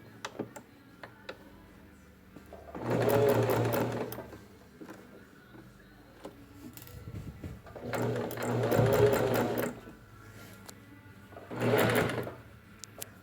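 A sewing machine stitches fabric in three separate bursts of close, steady running, with quiet pauses between them, ending in a short reverse backstitch run.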